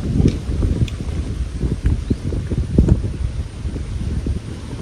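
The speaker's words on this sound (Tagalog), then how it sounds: "Mahangin nga." Gusty wind blows through mango tree leaves, producing uneven rustling and buffeting bursts of wind against the microphone that rise and fall throughout.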